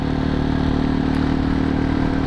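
A 2007 Husqvarna SM610 motorcycle, with dried-out tyres, rides along with a loud, steady single-cylinder engine drone, unbroken and close throughout.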